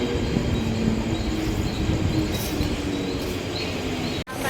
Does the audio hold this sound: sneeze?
no